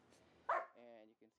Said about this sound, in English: And you can see the dogs enjoying things as well